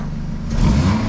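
A Renault Mégane 1.6 16v engine rises quickly from a steady idle into a loud, close rev halfway through, holding the higher pitch without any talk.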